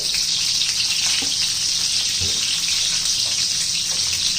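Eggs frying in hot oil with sautéed onion and a pinch of turmeric give a steady, dense sizzle that holds level throughout, with faint clinks now and then and no voices.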